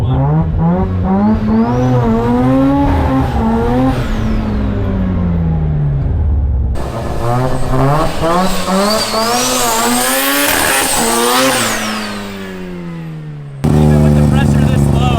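A rotary-engined Datsun launches for a wheelie with its tire spinning, engine revving loud and rising in two long pulls with tire squeal, and a brief voice at the start.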